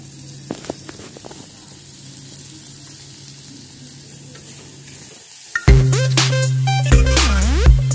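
Onion and garlic frying in a pan, a steady close sizzle with stirring scrapes, swelling louder near the end as water is added, with no voices.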